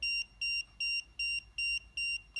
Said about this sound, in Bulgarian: Видяхте как има и аларма, и подсветка.